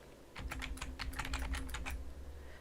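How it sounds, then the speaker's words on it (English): Fast typing on a small computer keyboard, a steady run of crisp, close key clicks with no talking. "This is actually a smaller keyboard than I'm used to."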